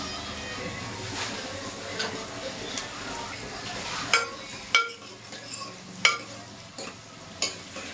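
Onions, cumin and mustard seeds fry in oil in a pan, giving a steady sizzle punctuated by sharp ticks and pops and the scrape of stirring.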